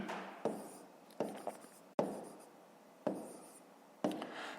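Numbers and fractions are handwritten for a fifth-grade math exercise, heard as five distinct bursts of scratchy pen strokes, each starting sharply and fading, close and quiet with no talking.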